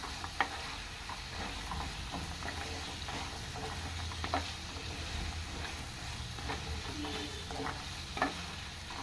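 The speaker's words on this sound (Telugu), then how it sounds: "ఇది ఇలా ఒక 5 to 10 మినిట్స్ వేయించుకుందాం అండి" Kabuli chickpeas frying with tomato in a pan for a curry, giving a soft, steady sizzle with scattered spoon clicks and stirring scrapes, close and unbroken, no voices.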